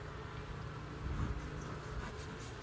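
Honeybees buzz around an open hive during a first inspection, a continuous, close, droning hum of many wings that swells slightly midway.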